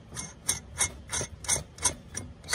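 Ratcheting clicks in quick bursts, about eight evenly spaced pulses, as a ratchet wrench spins lug nuts back onto a golf cart wheel during a drum brake replacement; close and clear with no talk.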